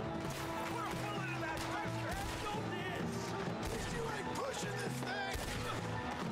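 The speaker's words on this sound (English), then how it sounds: "Who's shooting me?" Gunfire rings out in the video game Red Dead Redemption 2, with scattered shots cracking over a dense, busy game soundscape.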